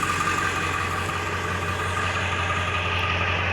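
A Ford F250 or F350 diesel pickup idles nearby, its exhaust giving a steady, even low rumble with a constant drone and no revving, heard alone without voices.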